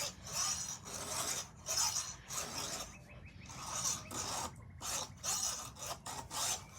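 A hand file rasps across a chainsaw chain in steady repeated strokes, each a short gritty scrape with brief pauses between, close up and with no talking, while the chain is sharpened for cutting storm-fallen trees.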